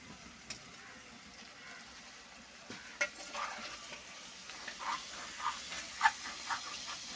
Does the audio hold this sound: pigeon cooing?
no